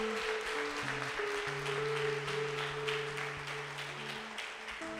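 A church congregation applauds in a dense, steady wash of clapping, fairly distant and soft, while sustained keyboard or organ tones play underneath throughout.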